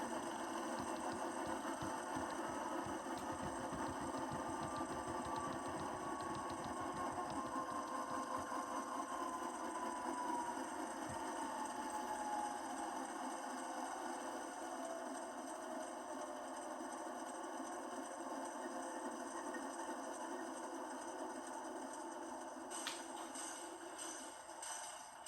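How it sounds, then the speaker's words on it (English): An Athearn Genesis AC4400CW model locomotive's sound system powers down, a droning diesel idle that winds down and thins out over the clip, ending in faint clicks near the end. "And it'll shut the locomotive off for good."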